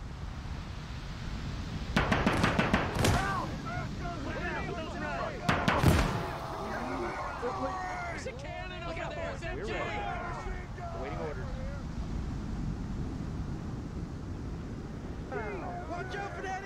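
Cannon artillery booms in the Gates of Hell World War II game, two sharp heavy blasts a few seconds apart amid battlefield rumble, wind, and soldiers' shouting voices.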